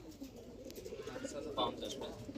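Pet pigeons kept for sale at a home pigeon market coo softly in a brief low murmur, with light chirps and background bird noise throughout.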